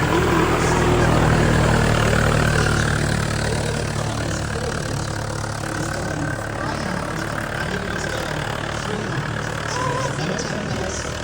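Vintage car engine running steadily as the car drives around a parade circuit at Beaulieu, a loud, continuous low rumble that eases slightly over the span, with someone talking over it.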